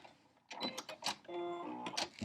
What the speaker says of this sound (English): put my line the presser foot edge up there, and then just sew straight down